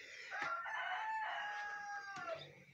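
A chicken clucks and calls close by in a series of tonal, throaty vocalizations, fairly quiet, with no talking over it.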